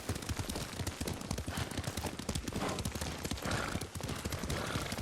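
Horse hooves galloping in a steady, rapid clip-clop rhythm while riding in Ghost of Tsushima, loud and continuous across a dense, busy background with other game sounds.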